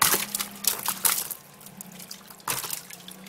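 Water dripping and trickling from a water balloon, a few irregular splashy drops and dribbles close by, louder bursts at the start and again near the end, with no talking.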